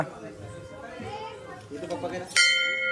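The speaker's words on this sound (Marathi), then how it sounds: "चला वाजो वाजो घंटा वाजो" Children chatter and sing, then a bright metallic temple bell rings out loudly near the end and keeps resonating.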